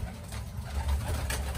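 Pigeons coo close by in low, rolling, repeated calls that carry on steadily with no voices over them.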